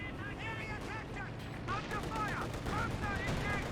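Tank cannon fire from Company of Heroes 2 in a clash involving a T-34/76 and a Panther: rapid bursts of gunfire and booms running under continuous commentary.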